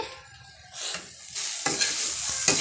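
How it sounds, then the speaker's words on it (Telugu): Grated coconut fries with carrot and beans in a curry pan, starting quiet then swelling into a louder crackling sizzle with bursts of stirring and spatula scrapes, close by and without talk. "కొబ్బరి పచ్చి పోయేంత వరకు ఇలా ఒక ఫైవ్ మినిట్స్ వేయించుకోవాలండి"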